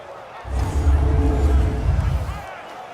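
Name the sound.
crowd cheering in Madden NFL video game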